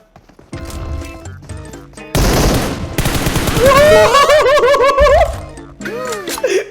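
Loud bursts of rapid automatic gunfire in PUBG Mobile, dense rattling volleys that come in waves over several seconds, with brief talk at the start.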